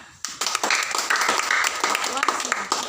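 A small group at a morning meeting of a drug rehabilitation foundation in Nias claps in brief irregular bursts, close and fairly clear, with voices talking alongside.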